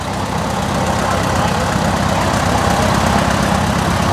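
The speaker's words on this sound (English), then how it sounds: "That's a sweet running tractor." A Minneapolis Moline 445 tractor engine runs at a steady, smooth low rumble, close and loud, holding an even pace without changes in speed.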